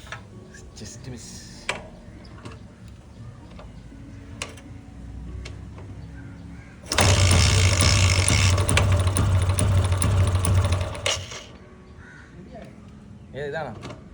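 An old scrap motorcycle engine is cranked and bursts into a loud, rattling run for about four seconds, then cuts out. Talk and other background sounds can be heard before and after.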